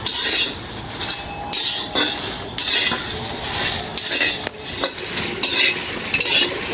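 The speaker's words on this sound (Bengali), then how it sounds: "ভাজাভাজি চলতেছে।" Food fries in a pan while a spatula stirs it, making repeated rhythmic scraping strokes over a soft background sizzle in a home kitchen, close and fairly loud.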